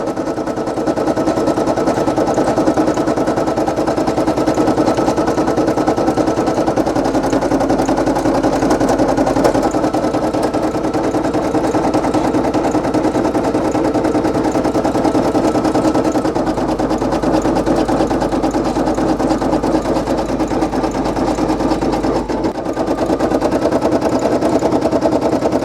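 A Brother PE800 embroidery machine stitches a Ghostbusters patch, giving a steady, rapid mechanical whir and needle chatter that runs unbroken and fairly loud, with faint low rumbles in places.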